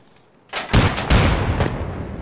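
A frag grenade detonates in the Escape From Tarkov shooter, a sudden loud boom followed by a second heavy blast and a long rumbling tail, with scattered sharp reports fading out.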